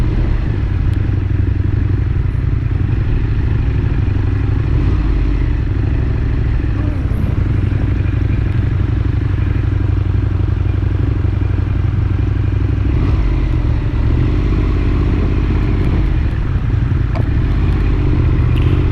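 Motorcycle riding recorded on a GoPro Hero 7: a steady, loud engine drone and wind rumble run throughout, with light clatter and scraping bits over the continuous road noise.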